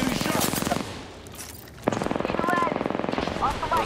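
Rapid automatic gunfire from the Apex Legends video game on PS5 rattles in fast bursts, stops briefly, then resumes in another dense burst, with a voice talking over the shots.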